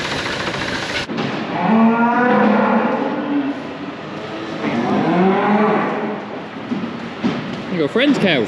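Cattle coming in for winter low loudly and close, two long drawn-out moos with wavering pitch, followed by shorter calls from other cows in the pen as a voice speaks briefly.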